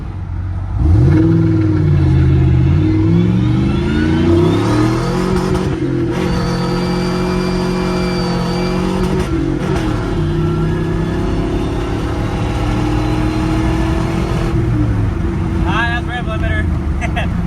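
Chevy Silverado truck with a swapped 6.0 V8 and five-speed, driving with loud engine drone that rises and falls through several revving pulls and gear changes, while someone talks over it.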